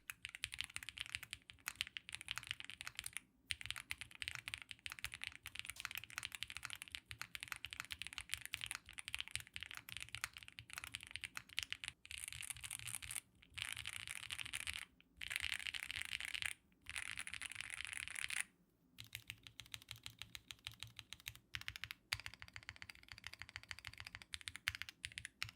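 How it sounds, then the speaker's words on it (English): A mechanical keyboard with stock TTC Icy Silver linear switches and stock foam is typed on steadily up close, a dense run of soft clacking keystrokes with brief pauses, with no voices. "The stock switches and stabs sound actually pretty good"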